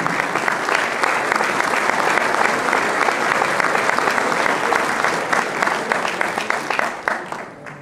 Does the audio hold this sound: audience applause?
yes